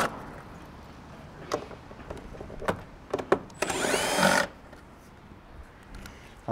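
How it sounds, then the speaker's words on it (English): A power drill backs screws out of metal roof sheeting while barge capping is fitted on a gable roof. One short whirring burst comes midway, surrounded by scattered clicks and knocks, with no talking. "I'll just remove these two end screws here because they're gonna be in the way"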